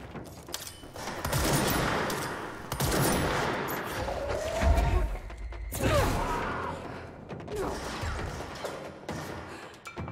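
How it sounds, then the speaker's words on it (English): Video game gunfire, sustained bursts of rapid automatic fire with heavy thuds and crashes, loud and dense across the whole stretch, with short gaps between volleys and no talking. "Who the fuck is shooting?"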